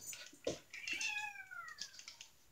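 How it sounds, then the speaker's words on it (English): A cat meows with a drawn-out, falling cry after a few soft clicks and thumps, fairly close and quiet, followed by faint shorter sounds. "The meowing that you hear"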